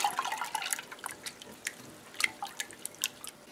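Water goes into a cooking pot over low heat as a quiet run of splashes and drips, irregular and soft, with a few brighter splashing bursts.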